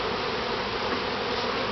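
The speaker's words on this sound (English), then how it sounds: "Let me get some of these bees off of here" Honey bees at a top bar hive, a dense steady buzzing swarm close up, constant and fairly loud through the short stretch with no voices.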